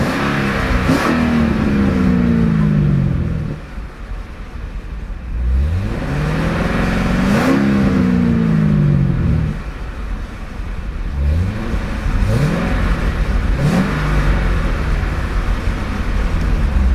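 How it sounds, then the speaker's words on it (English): Loud, close revving from the 7-liter V8 of a 2011 Chevrolet Corvette Z06 with bi-mode exhaust, center exhaust flaps opening around 4,000 RPM: a series of sharp throttle blips rising and dropping, separated by brief rumbling idle, with no voices. "It's an absolutely brutal sounding V8, especially with the bi-mode exhaust."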